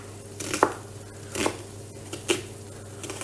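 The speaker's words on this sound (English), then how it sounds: "now I want to slice this onion up as quickly as I can" A knife chops an onion quickly on a board, giving about four sharp, separate cuts over a low background hum, fairly close and without talk.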